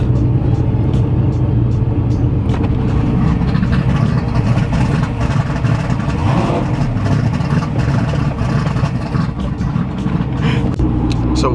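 The Cowmaro's engine idles loudly while warming up in cold weather, a steady close rumble with slight fluctuations in revs, mechanical clatter over the top, no clear speech.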